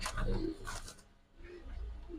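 High flyer pigeons coo at a pigeon farm, soft low throaty calls repeating close by in a quiet space, with faint rustling between them.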